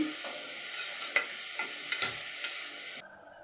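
Masala fries in oil with a pinch of salt until golden for mutton gravy curry, a soft continuous sizzle close by with several sharp spoon scrapes against the pan, then dropping quiet at the end.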